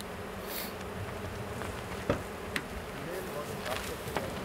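Honeybees buzz in a beehive opened after winter, a dense, steady hum filling the clip with a few faint knocks over it.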